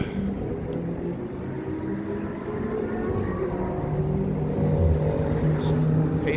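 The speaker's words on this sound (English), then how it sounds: "In the background, you can hear some of the cars going around." Several cars lap a race track in the distance, among them a pace car, Lamborghini Huracans, Porsche 911s, a Corvette C8 and a Ferrari. Their engines make a steady, far-off roar that swells slightly toward the end.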